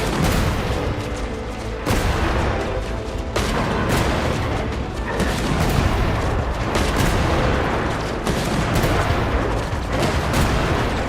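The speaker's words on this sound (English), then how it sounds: "Bosco 2, prepare to fire!" Dense, continuous booming cannon fire fills a Genshin Impact battle scene, heavy overlapping blasts and rumble rolling on without pause at high volume.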